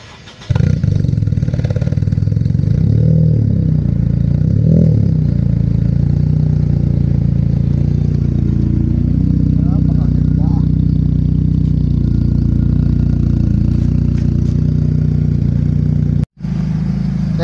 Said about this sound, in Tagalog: Ito naman ang kanyang engine. Naka-headers na rin.